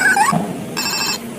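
A Hello Kitty toy telephone rings with bright electronic chirps, then settles into a steady, high, sustained ringing tone, fairly close and clear with no talking.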